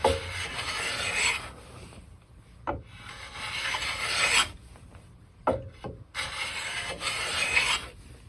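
A Veritas chisel plane shaves fine curls from wood in repeated rasping strokes, each a second or two long, close and clear with short pauses between passes.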